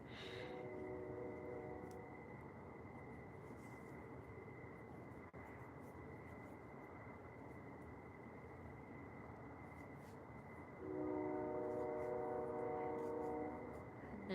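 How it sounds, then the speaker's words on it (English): A steady, droning rumble of a passing train, with a sustained high whine and a louder surge of grinding tones near the end. "There's the train."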